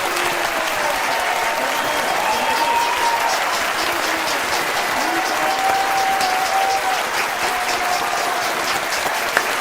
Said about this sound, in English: allow me to give you a round of your own applause for that absolutely incredible bravura performance